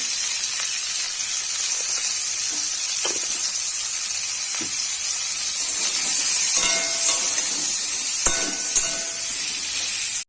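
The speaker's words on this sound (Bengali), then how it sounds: "নুন হলুদ দিয়ে পটলটাকে ভেজে নেব" Pointed gourd frying in a pan with salt, turmeric and panch phoron, giving a steady close sizzle with scattered small pops and crackles and no talk.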